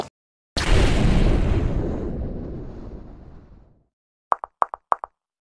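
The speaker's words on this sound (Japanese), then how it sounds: "山のふもとで爆発。" A single big explosion at the foot of a mountain bursts out suddenly and loud, then rumbles and fades over about three seconds, followed after a pause by four quick sharp knocks.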